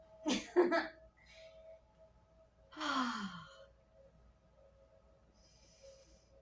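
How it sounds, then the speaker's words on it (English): Loud audible breaths during a yoga practice for hypermobile joint support: two sharp, close breaths at the start, then a long, noisy exhale with a falling tone, fading into quiet room tone. "I'll try to make loud, audible breathing sounds so that you guys can follow along with breathing"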